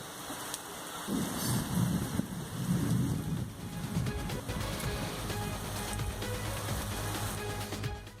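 A thunderstorm with heavy rain in Visakhapatnam: loud, continuous rain hiss with deep thunder rumbling low in the mix during the first few seconds, then a steady, dense downpour.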